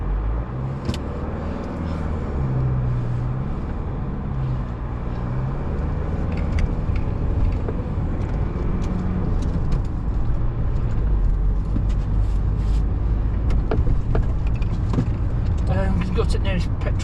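A 2010 Kia Sportage rolls along on a test drive in town, its cabin filled with a steady low road and engine rumble, light clicks and rattles scattered over it, while someone talks inside.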